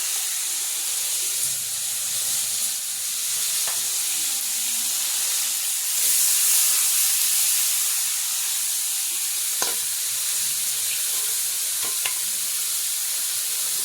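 Cabbage fries and is stirred in a pan with a hilsa fish head, giving a continuous close sizzle broken by a few sharp scrapes and clinks of the spoon, with no voices.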